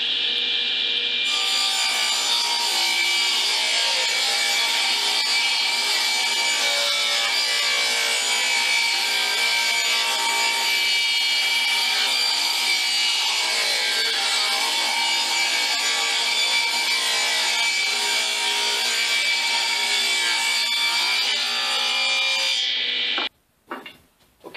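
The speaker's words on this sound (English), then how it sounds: "So let's start on the table saw and cut this to size." A table saw rips through wood to cut it to size, a loud continuous whine of the blade biting steadily through the board for over twenty seconds before the cut ends and the motor winds down.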